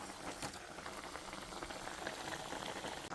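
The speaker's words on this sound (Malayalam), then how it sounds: "ഗ്രേവി നന്നായി തിളച്ച് വരുന്നുണ്ട്." Egg curry gravy boiling in a pan gives a faint, continuous fizz of small bubbles popping, steady and unbroken with no voices.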